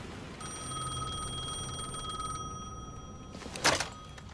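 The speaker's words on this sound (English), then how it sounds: "The phone was ringing again." A telephone rings in the game Alan Wake, a steady electronic trill lasting a few seconds, then it cuts off and a short clunk follows, like the receiver being picked up.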